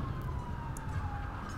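An ambulance siren in GTA 5, a steady wailing tone running continuously throughout, moderately loud over a dense low rumble of in-game engine and traffic noise.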